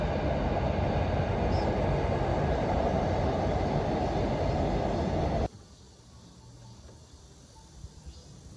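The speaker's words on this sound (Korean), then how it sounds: "걷고 있는 중간에 철도다리 위로 기차가 지나갔는데요" A train rumbles loudly across a railway bridge overhead, a dense, continuous roar that stops abruptly partway through, leaving quieter outdoor ambience with faint insect chirps.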